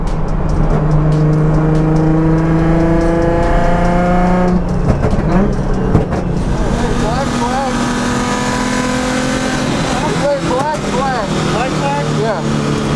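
A procharged Nissan 350Z runs loudly at a race track, its engine droning and revving up and down at close range, with rising and falling pitch sweeps across the clip.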